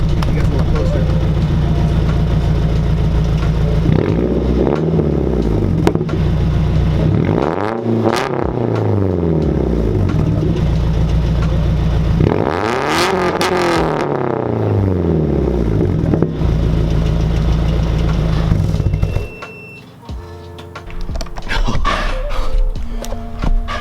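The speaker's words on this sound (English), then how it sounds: "let me rev it up for you guys a little bit" A 1998 Nissan 240sx fitted with a Tomei titanium cat-back exhaust revs repeatedly from a low idle, each rise climbing and falling back, loud and close, before settling near the end.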